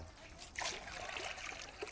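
Clean water spills over the rims of bird water pots, a soft continuous trickle and splatter, faint and steady, with brief louder splashes.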